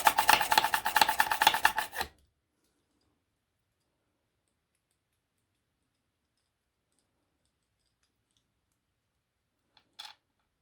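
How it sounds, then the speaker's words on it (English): A small hand push drill bores holes in polymer clay earrings with a quick run of rasping, clicking strokes, then silence and one faint click later. "So my next step is I'm actually going to drill the holes in"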